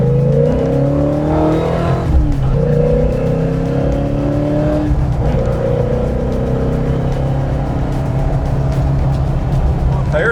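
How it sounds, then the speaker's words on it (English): A classic car's engine revs hard as its tires break loose, the strained engine tone rising and falling loudly and close, with people talking over it. "Tires broke loose there."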